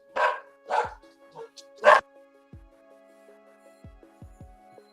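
A dog barks three loud, close times in quick succession, followed by a few fainter low thumps and quiet room noise.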